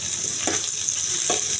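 Chopped onion and chili sizzling in a frying pan, a brief steady close hiss with two soft stirring scrapes.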